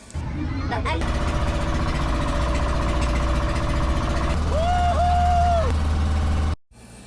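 A bangka (outrigger boat) engine drones steadily and loudly throughout a ride to a scuba diving site off Davao City, Philippines, with a brief rising and falling whine partway through before the sound cuts off abruptly.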